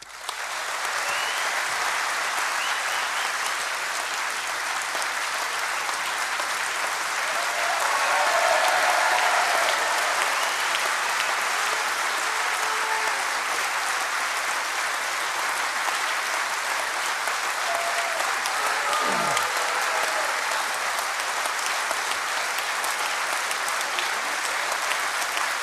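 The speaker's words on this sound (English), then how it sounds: "I ask you now to welcome to the stage with rapturous applause the First Minister" Rapturous applause from a political party conference crowd in Glasgow as First Minister Alex Salmond takes the stage, a dense, steady roar of clapping sustained for the full stretch, swelling slightly midway and with no voices on top.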